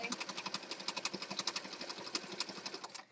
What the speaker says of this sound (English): We're going to stitch all the way around the outside edge.